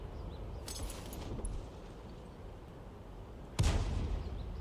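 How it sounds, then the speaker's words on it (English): In a tank video game, artillery fires in two distant thuds: one muffled report early on, then a sharper, louder boom near the end, both over a low, steady background rumble. "somebody is firing towards those bushes at the back"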